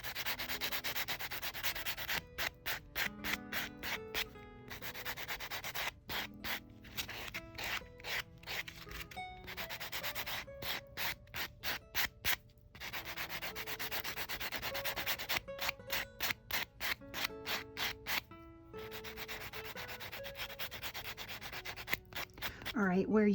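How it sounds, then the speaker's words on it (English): A buffer rubs the shine off a drugstore press-on nail, making rapid close rhythmic scratchy strokes in quick bursts with short pauses between them, continuing throughout without any talking. "take your buffer. Get the shine off the whole nail now."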